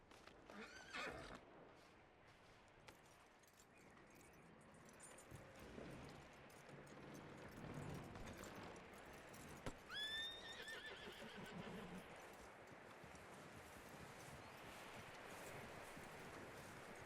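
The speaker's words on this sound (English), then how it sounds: "That looks like a decent horse." A horse in Red Dead Redemption 2 whinnies loudly near the start and again partway through, with quiet hoof clip-clops and faint rustling between, fairly soft overall and without talk.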